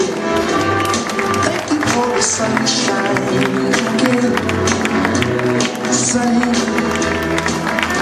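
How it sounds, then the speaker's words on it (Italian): Audience applause for a children's theatre group, dense steady clapping from a crowd that continues throughout, loud and close. "un applauso ai ragazzi"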